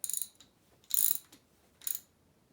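Ratchet wrench tightening a rocker arm on a Chevy Mercruiser engine cylinder head, heard as three short bursts of bright clicking ratchet strokes, close and fairly quiet, with no talking.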